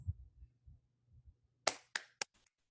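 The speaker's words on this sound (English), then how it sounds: "a clap is a non-vocal sound because I didn't use my voice" A few sharp hand claps ring out close by, three or four crisp smacks spaced apart, following some faint low thumps in a quiet room.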